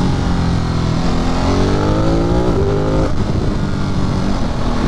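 Ducati motorcycle downshifting to second gear at speed on the street, the engine note climbing sharply with a loud rev blip before settling into a steady close rumble.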